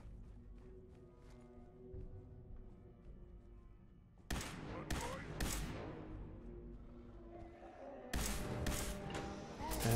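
Gunfire from super mutants in the video game Fallout 4: a few sharp broadband blasts and short bursts arrive around the middle and near the end, standing out over a steady bed of game background sound.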